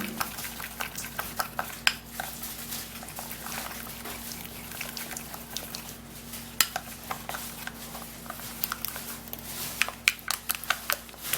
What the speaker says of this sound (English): So we're going to stir and give it a little time for it to mix very well.